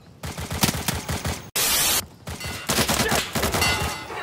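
Rapid bursts of automatic gunfire in the tactical shooter Insurgency, loud and close, with one brief louder blast partway through and sustained volleys continuing after it.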